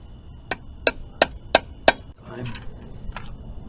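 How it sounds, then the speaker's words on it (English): A hammer taps a new seal into place during ball joint and bearing work: five sharp, evenly spaced metallic knocks close up, followed by lighter clinks and handling noise. "Okay, we'll tap that in."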